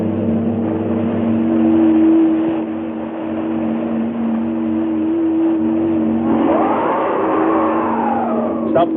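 A car engine hums steadily through the drive in a 1965 science-fiction film, low and continuous, swelling a little in the middle before easing off and holding steady to the end.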